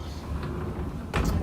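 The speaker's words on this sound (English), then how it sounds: "Close that door." A door in a house under renovation swings shut near the end, a brief solid knock after a stretch of quiet room noise.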